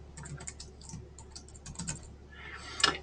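Typing on a computer keyboard to enter a short photo caption during concrete-raising estimate software use, heard as a quick run of light, close key clicks with a brief louder burst near the end.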